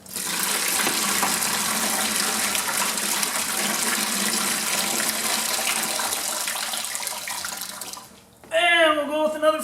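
Water rushes in a loud, continuous pour for several seconds while a dead car battery is flushed, then stops abruptly. A person speaks close by afterward.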